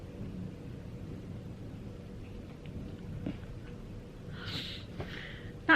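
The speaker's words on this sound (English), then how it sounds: "There's some thunder." Distant thunder rumbles low and faint beneath light rain during a storm, a soft continuous roll with a brief fuller swell near the end.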